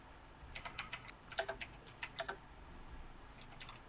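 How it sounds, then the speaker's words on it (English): Computer keyboard typing comes in quick irregular bursts of crisp clicks and taps, close and fairly clear over a quiet background hiss, with pauses between runs of keystrokes and no talking. "I don't like that you're typing."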